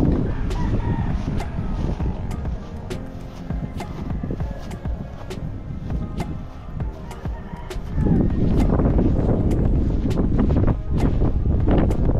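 A fighting rooster crows repeatedly over a busy, windy outdoor background at a lot in Siniloan, Laguna, with other fowl clucking and sharp clicks scattered throughout.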